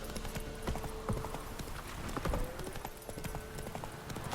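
The horse Roach's hooves clip-clop in a steady trotting rhythm through The Witcher 3: Wild Hunt, clear and continuous across the whole stretch beneath the game's ambient sound, with no voices.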